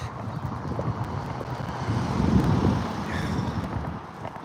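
Wind blows across an open outdoor stretch on a cold UK day, a steady low buffeting rumble on the microphone that swells in the middle and then eases, with no voices.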